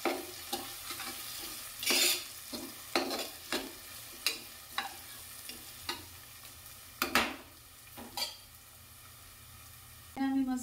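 Spoon scrapes and stirs in a pan of sautéing khichdi ingredients with a pinch of turmeric, cooked over a chulha or gas flame, giving a steady run of distinct stirring strokes over a soft, quiet sizzle.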